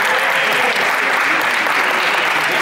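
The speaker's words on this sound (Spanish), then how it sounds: "¡Un aplauso! ¡Bravo!" Steady, dense clapping from a group of people after a frisbee game, loud and continuous throughout with no break, the many hands blending into one even roar of applause.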